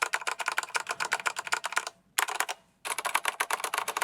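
Fast, crisp typing on a mechanical keyboard fitted with brown Keychron switches, close and clear, a rapid run of keystrokes broken by two short pauses.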